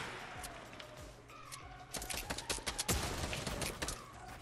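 Gunfire during a Fortnite Battle Royale solo match, a quiet stretch giving way to a cluster of sharp shots and impacts around the middle, the loudest crack near three seconds, set against faint game ambience.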